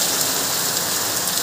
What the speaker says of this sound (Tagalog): medyo maingay kasi ang lakas ng ulan, no?